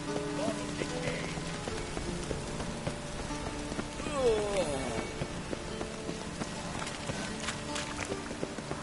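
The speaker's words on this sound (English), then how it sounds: "Rain makes the city even more dreary." Rain falls steadily in the Witcher 3 video game, a continuous patter on surfaces beneath game music and other ambient city sounds, with no break throughout.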